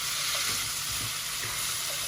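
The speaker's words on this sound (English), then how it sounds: "So give these a good turn to coat them lightly in oil and to fry them" Onion and asparagus stir-fry in hot oil in a pan for a Thai pad pong garee with prawns and squid, giving a steady, close sizzling hiss throughout with faint stirring scrapes.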